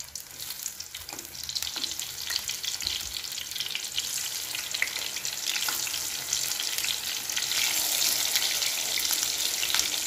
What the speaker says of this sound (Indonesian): Kita langsung goreng tempenya ya.